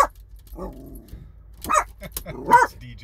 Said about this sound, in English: That's DJ barking again.